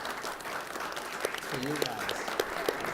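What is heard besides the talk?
audience applause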